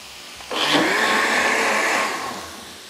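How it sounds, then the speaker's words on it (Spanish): A Black & Decker Fusion Blade electric blender whirs up loudly after a brief quiet start, holding a steady high motor drone for about a second and a half before winding down. "La ponemos acá en nuestra licuadora Fusion Blade de Black & Decker."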